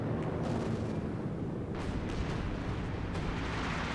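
Continuous battlefield rumble from artillery fire in Company of Heroes 2 during a 4v4 match on Port of Hamburg, with dense, overlapping booms and blasts at moderate loudness.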